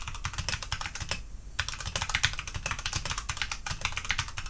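Typing on a Redragon K530 Draconic 60% mechanical gaming keyboard with tactile switches: dense, rapid, close key clatter, moderately loud, with one brief pause, and no voices.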